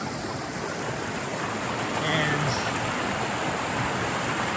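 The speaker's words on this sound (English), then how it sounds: "I love these rocky brooks, crystal clear water, a river crossing" Water rushes steadily over rocks in a clear, rocky brook at a river crossing on the Appalachian Trail, a constant loud wash of flowing water close by throughout.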